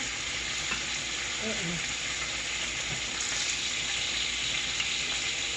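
Thick sirloin chops fry in a hot pan with a steady, dense sizzle and crackle that runs throughout at an even level.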